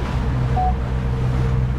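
Wind and rough waves buffet a Moonday 480 fishing boat on stormy open water, a steady loud roar of wind noise and surf with low engine rumble, continuous and close, no talking.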